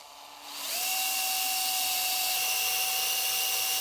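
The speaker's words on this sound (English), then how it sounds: "Go ahead and drill the pilot holes for these wire holes." A power drill spins up after a short pause and holds a steady high-pitched whine while boring pilot holes into a metal tube amplifier chassis.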